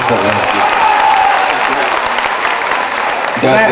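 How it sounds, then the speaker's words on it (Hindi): Loud audience applause for Imran at a gathering, a dense, sustained burst of clapping that fills the span, with a voice and cheering audible at the start and end. "एक मर्तबा जोरदार तालियों से इमरान साहब का"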